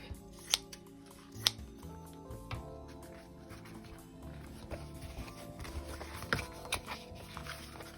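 Scissors trim extra paper scraps for a junk journal, giving a few sharp close snips followed by soft rustling and handling clicks; quiet room, no talk.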